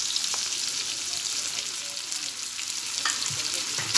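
Sliced onion sizzles in hot oil with a cinnamon stick, frying for restaurant-style chili chicken gravy; a steady crackling hiss with faint stirring scrapes, close up and without talk.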